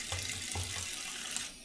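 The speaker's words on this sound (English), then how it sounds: "So cold running water, I like to kind of crack them all over" Cold tap water runs steadily over boiled eggs in a sink, a broad close hiss with a few low knocks from the eggs shifting, for under two seconds with no talking.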